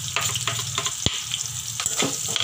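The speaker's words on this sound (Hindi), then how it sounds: "इसमें हम चिली डालेंगे, और लगे हाथ हम ऑनियन भी डाल देंगे ताकि वो पकता रहे" Chili and onion frying in a pan for poha, a steady close sizzle with sharp crackles and pops scattered through it, no speech.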